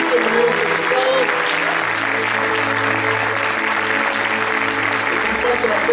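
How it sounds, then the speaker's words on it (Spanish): Steady, dense applause from an audience at a school graduation ceremony for new eighth-grade graduates, loud and sustained throughout with no break. "Un fuerte aplauso entonces para estos 15 primeros licenciados."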